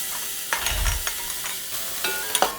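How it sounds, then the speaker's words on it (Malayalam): Jackfruit leaf (plavila) thoran stir-fried in a pan in a village kitchen, with a steady low sizzle and scattered scraping clicks of the stirring spoon, close and alone with no talk. "ഒരു 2 മിനിറ്റ് നേരം നമുക്കൊന്ന് ഇളക്കി വേവിക്കട്ടെ"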